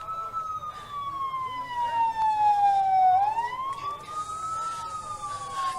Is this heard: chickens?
no